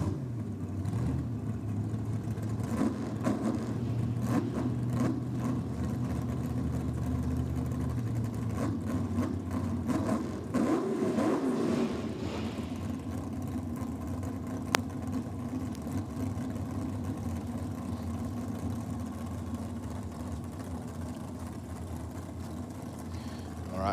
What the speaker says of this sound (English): 565 cubes of Big Block Chev in this dragster